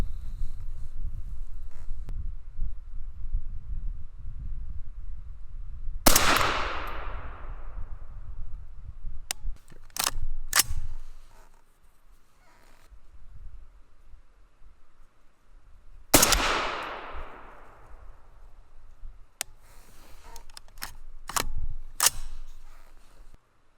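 A 6mm ARC rifle fires light bullets outdoors, two sharp, loud shots about ten seconds apart, each followed by a long decaying ring, with metallic clicks and clatter of the action between shots over wind noise.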